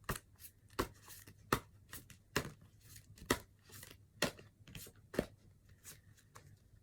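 Tarot cards are shuffled in quick irregular bursts, sharp close riffles and slaps recurring roughly every half second to second, fairly quiet overall.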